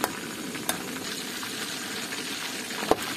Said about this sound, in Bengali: চিকেন ভাজছি, মানে চিকেন ফ্রাই করছি